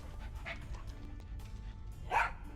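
A dog barks once in Tales of Monkey Island, a short bright yelp rising over a steady low game backdrop near the end, after quieter sniffing-like noises.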